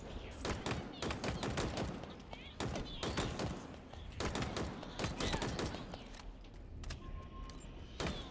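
Gunfire in Halo Infinite, dense bursts of rapid shots crackling almost continuously with brief gaps, moderately loud and close.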